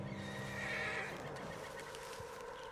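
A horse in Red Dead Redemption 2 lets out a shrill whinny near the start, then quieter hoof sounds and a steady background murmur follow.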